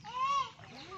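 A chicken on a backyard farm gives a short, close clucking call, a single brief vocalization with a faint trailing note.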